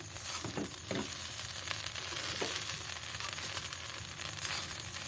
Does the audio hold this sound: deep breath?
no